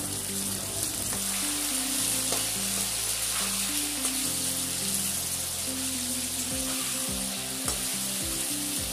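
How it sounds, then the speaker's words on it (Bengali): Broad beans (sheem) frying with salt in a pan hiss in a steady, close sizzle, with occasional soft stirring knocks and scrapes; no voices. "এবার শিমগুলি ভেজে নেব।"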